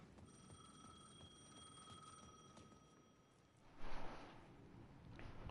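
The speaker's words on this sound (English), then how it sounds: "The payphone at the edge of the plaza was ringing again." A payphone at the edge of a plaza in the video game Alan Wake II rings in steady repeated bursts, faint and somewhat distant over a low hiss, with a brief louder rustle near the end.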